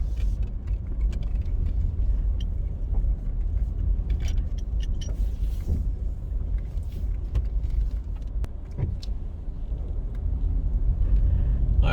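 A car driving slowly through a residential housing scheme in Kingston, Jamaica, a steady low engine and road rumble throughout with faint rattles and clinks inside the cabin.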